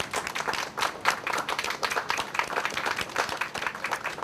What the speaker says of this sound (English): Please give a round of claps.